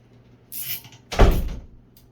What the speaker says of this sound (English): My wife closed the door, scared the living crap out of me.